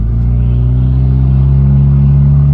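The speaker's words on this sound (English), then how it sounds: "I'm going to give it some throttle" A Nissan engine, converted from MAF to speed density and left in drive, rises in a loud, steady, droning rev under throttle with a deep rumbling tone and no speech.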